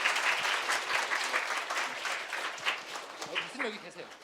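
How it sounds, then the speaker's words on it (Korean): Audience at a brain science talk event applauds the doctors, a continuous round of clapping from many people, fairly soft, with some speech faintly underneath toward the end. "다시 한번 박사님들께 큰 박수 부탁드립니다"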